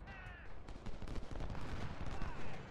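Musket volleys crackle in a Civil War battle game set at Bull Run, dense rapid shots layered over one another with crows cawing faintly, and no talking.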